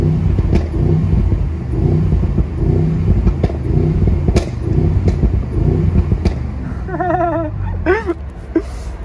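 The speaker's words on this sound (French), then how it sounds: "Là c'est race, clapet ouvert, la guerre." A 2021 Mercedes-AMG GLE 63 S with 612 hp revs its exhaust with the valves open in Brussels, a loud deep rumbling burble with repeated surging pulses, close up, and voices briefly audible near the end.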